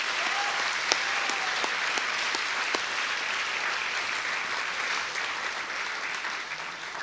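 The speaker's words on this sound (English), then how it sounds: "Can we give these three individuals another round of applause?" An audience at a Forest Hills School District distinguished alumni ceremony gives sustained, dense applause indoors, with a few sharper claps near the start and no speech over it.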